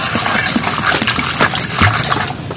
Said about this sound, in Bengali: এবার এই পাতাগুলো কিন্তু ভালো করে ধুয়ে নিচ্ছি